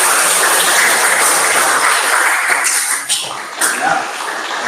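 A classroom of students applauds a presenting group, a lively burst of clapping that thins out and breaks into scattered claps toward the end.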